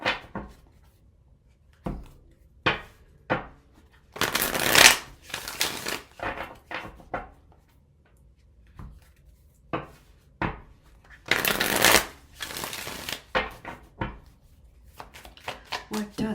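Tarot cards are shuffled and riffled in close, dry bursts with quiet pauses in between, and two longer rushes of rapid flicking stand out.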